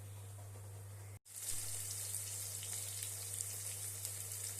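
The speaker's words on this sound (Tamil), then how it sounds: "கடுகு, உளுந்து, வரமிளகா, பெருங்காயம் போட்டு தாளிச்சிட்டேன்." Mustard seeds, urad dal, dried red chili and asafoetida tempering in hot oil, a sudden loud, steady crackling sizzle that starts after a short gap and continues, with an electrical hum underneath.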